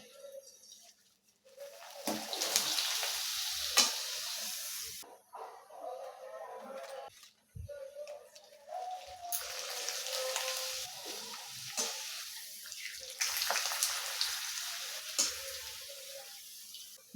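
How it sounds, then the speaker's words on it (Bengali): Papad fries in hot oil in a wok in a home kitchen, bursts of bright crackling sizzle that rise and die away several times, with quiet gaps and small clatters between batches. "তেলটা গরম হয়ে গেছে পাঁপড়গুলো আমি ভেজে নেবো"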